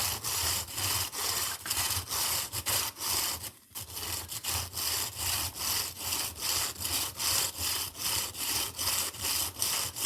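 A hand bow drill with a hollow copper bit bores into wood, giving rhythmic back-and-forth rasping strokes, close and fairly loud, with one brief pause midway.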